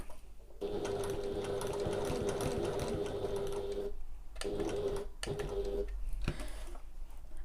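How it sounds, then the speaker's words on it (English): Sewing machine stitching a fabric pocket at a shortened stitch length, a steady close whirring hum through most of the clip with brief stops and restarts near the end. "I'm just going to decrease my stitch length, go right down."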